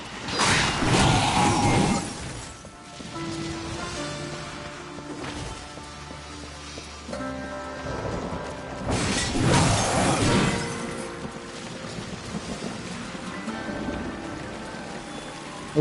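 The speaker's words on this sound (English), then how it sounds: "the part that's meant to resemble New York raining" Rain falls in a city area of the video game Darksiders 2, made to resemble rainy New York: a dense, steady downpour hiss with occasional heavier crashes and low rumbling, loud and continuous throughout.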